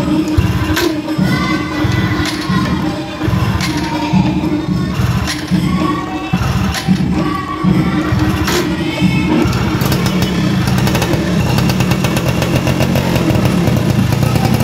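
A Yamaha F1ZR two-stroke motorcycle fitted with a BRT CDI starts and runs, a loud close buzzing engine that revs and crackles before settling into a steady high idle.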